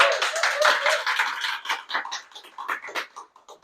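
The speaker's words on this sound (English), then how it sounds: "Give yourself a round of applause." A small studio audience claps together, a brisk patter of hands that gradually thins out and fades.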